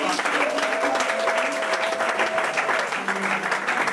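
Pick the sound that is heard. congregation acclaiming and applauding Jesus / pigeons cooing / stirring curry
congregation acclaiming and applauding Jesus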